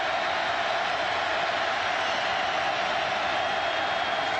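A large football stadium crowd roars steadily during a 2009 Auburn versus Tennessee college game, a dense, sustained wash of cheering and noise urging on the Tennessee defence on a third down.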